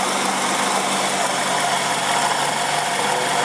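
A 2001 2.4-litre car engine idles steadily after a head job and timing belt replacement, a dense even running noise that stays close and constant throughout with no talking.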